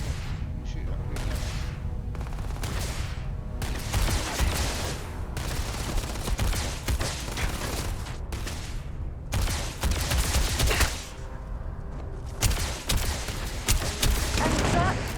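Rapid gunfire in the sci-fi game Starfield, bursts of shots and fusillades with booming impacts, loud and frequent across the whole stretch, with brief quieter gaps.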